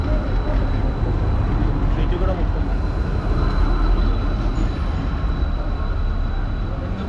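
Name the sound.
tram passing on a London street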